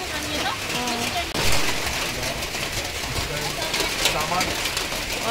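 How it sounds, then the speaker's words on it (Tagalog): Heavy rain pours over open sea during a storm, heard from a boat as a dense, steady hiss that fills the whole clip, with voices talking over it. "Kaya ang lakas ng ulan."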